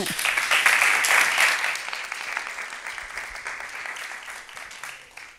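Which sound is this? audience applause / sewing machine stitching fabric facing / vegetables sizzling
audience applause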